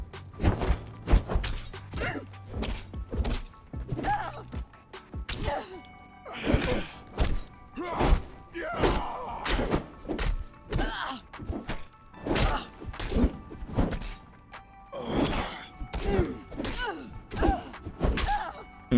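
Repeated one-handed club strikes in Conan Exiles land as dull thunks and thuds in an irregular, steady rhythm, near and fairly loud, with a light game soundscape beneath and no talk.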